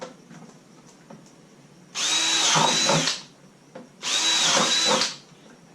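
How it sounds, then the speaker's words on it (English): A power drill fitted with a 13mm spade bit bores holes through a plastic laundry basket, two loud whining bursts of about a second each with quiet pauses between. "I'm using a 13mm spade, but if you don't have one of these spade drills, just use the biggest drill that you've got handy."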